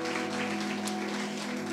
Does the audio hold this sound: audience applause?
yes